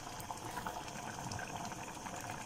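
A pot of mung beans with coconut milk at a boil, a soft continuous bubbling and simmering hiss, steady and low in level, with no talk over it.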